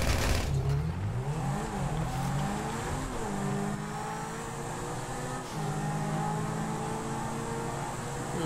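A car's engine in a first-person driving video game, revving up and shifting through gears, the pitch rising and dropping in steps before settling into a steady high drone, loud and close.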